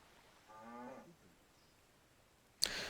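In the prehistoric survival strategy game Dawn of Man, cattle fitted with plows give a single faint, low moo, followed later by a sudden sharp hiss of sound from the game.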